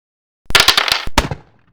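Musket shot sound effect in a virtual tabletop game: a sharp burst of several rapid cracking reports with a short ringing tail, loud and close, with no talking.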